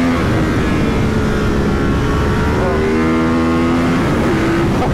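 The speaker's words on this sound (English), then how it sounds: "Listen to that airbox. Airbox sounds so good when you open it up," A Ducati 916 motorcycle's engine and airbox roar loud and close as the bike accelerates hard in second gear, the pitch climbing steadily, with a voice talking over the engine.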